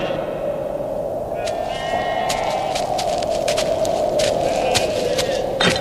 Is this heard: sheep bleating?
yes